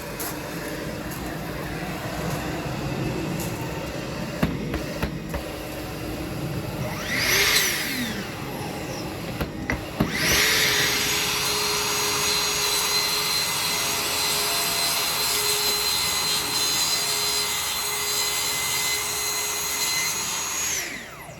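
A saw running on a rail cuts through PIR insulation board, a loud continuous whining drone with brief pauses early on, then a long steady cut that ends abruptly.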